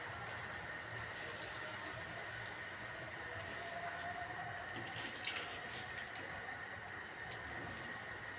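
Steady sizzling of karphu fish pieces frying in hot oil, a continuous dense hiss at moderate level with no pauses or voices.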